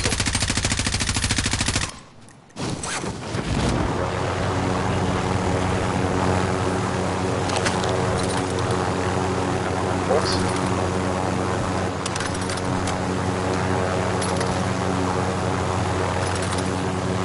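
A helicopter in Call of Duty Warzone drones as a loud, steady rotor and engine roar that fills the scene after a brief dropout near the start, with gunfire mixed in beneath it.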